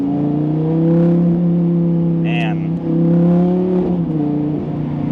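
A V10 engine from an Audi R8 or Lamborghini Gallardo fitted with an aftermarket exhaust holds a loud, steady droning idle-to-rev tone close by, swelling slightly, with someone talking briefly over it.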